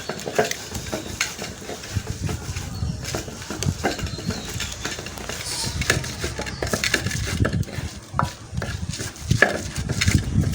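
Dried fish paste is ground by hand on a grinding stone, giving steady scraping and crushing strokes with small knocks, close and fairly loud, with no talk.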